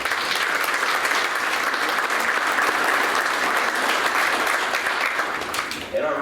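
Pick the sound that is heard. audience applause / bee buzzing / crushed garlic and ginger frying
audience applause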